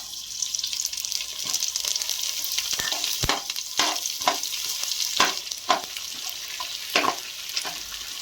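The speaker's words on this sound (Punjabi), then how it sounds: "ਇਹ ਵਿੱਚ ਕਮਰ ਕਸ ਪਾ ਦੇਣੀ ਇਹਨੂੰ ਫਰਾਈ ਕਰ ਲਈ ਥੋੜੇ ਜਿਹਾ" Kamarkas (edible gum) frying in hot ghee for Punjabi panjiri gives a steady bright sizzle, broken by sharp scraping knocks of a ladle stirring the pan every second or so, with no voices.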